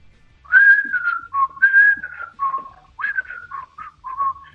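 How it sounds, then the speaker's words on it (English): A clear TV theme melody whistled close by, a series of sustained and bouncing notes in a relaxed, steady rhythm, with no other sounds. "The opening intro starts off with whistling"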